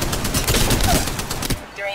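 Rapid automatic gunfire in the Apex Legends video game, a dense fusillade of sharp shots rattling out in quick succession before cutting off, followed by a short quieter tail.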